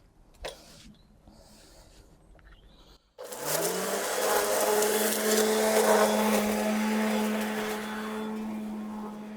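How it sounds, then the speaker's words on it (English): A powered hedge trimmer cuts back an overgrown garden hedge during a heatwave, starting abruptly after quiet rustling and running loud and steady at close range with a constant motor whine and crackle of snapping twigs. "maybe the hedge trimmer just to get it down"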